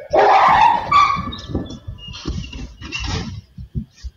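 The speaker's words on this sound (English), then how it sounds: "What did the dog see?" A dog gives a sharp, loud bark up front, followed by a second bark, with quieter talk and scattered noises trailing after.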